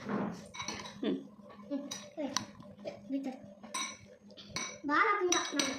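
A spoon stirs fruit salad in a bowl, giving close, irregular clinks and scrapes against the dish, with people talking over the mixing.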